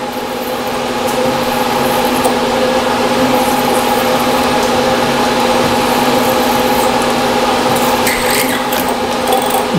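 A 1764th-size drill running at about 660 RPM through gummy copper in a machine shop, a loud, steady mechanical whine and hum that holds without a break throughout.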